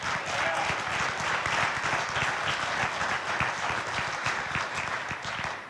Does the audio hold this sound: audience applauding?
yes